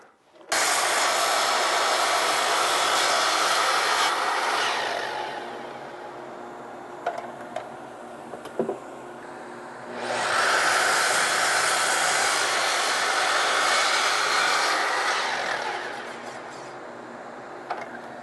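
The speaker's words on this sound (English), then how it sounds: "we'll go over to the sliding miter first of all, and we'll cut the top off, and then we'll cut it to length" A sliding miter saw cuts a wooden board to length in two long, loud whining passes, spinning up, biting through the wood and winding down, with a short quieter gap and a few knocks between cuts.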